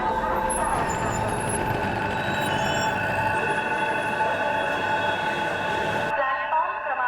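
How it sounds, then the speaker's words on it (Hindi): An express train rushes past a railway platform with a loud, continuous roar and rattle of wheels, holding steady for several seconds before cutting off abruptly. "प्लॅटफॉर्म क्रमांक 1च्या किनाऱ्यापासून दूर उभे राहा. एक जलद गाडी जाणार आहे."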